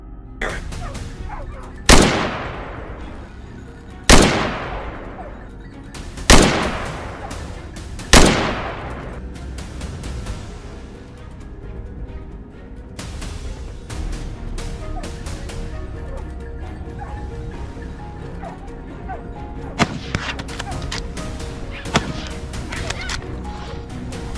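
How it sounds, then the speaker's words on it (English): Gunfire during a wild boar hunt on a Texas farm's hillside clearings: four loud, sharp shots spaced about two seconds apart, each trailing off in a long echo, then a low outdoor rumble with a few faint distant cracks later on. "Only when they reached a clearing could we fire."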